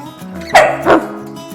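Two short, loud barks sound close up over a steady background hum, a voice imitating a dog.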